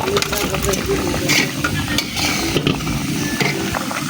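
Tengra fish frying in a pan for a bean and tomato curry, a close steady sizzle with scraping and stirring clatter throughout, fairly loud and uninterrupted.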